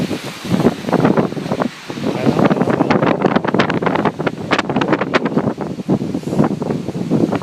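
Strong gusts of wind blowing outdoors near water during a rain shower, a steady loud roar with buffeting on the microphone throughout.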